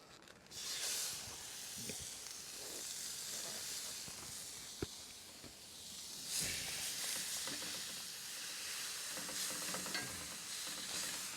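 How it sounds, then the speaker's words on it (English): Lean ground beef fries in a hot pan for shepherd's pie, giving a soft, steady hiss and sizzle with occasional stirring scrapes and a few louder bursts. "We're going to throw on this lean ground beef"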